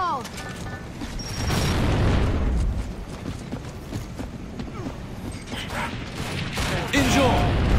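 A grenade explodes in the Gears of War Judgment video game, a heavy boom and rumble among clattering game effects and shouted voices, with the blast swelling loudly around the middle and again near the end.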